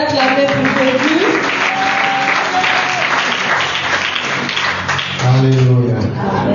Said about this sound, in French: Can you clap again for Jesus?